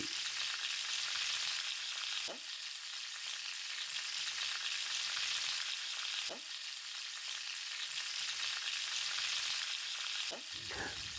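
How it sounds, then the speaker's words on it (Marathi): Cluster beans (gavar) cooking in a covered pan with water steaming, giving a steady close hiss and sizzle throughout, broken by a few brief clinks of the lid or utensil. "आता पाण्याला वाफ येऊ लागली आहे."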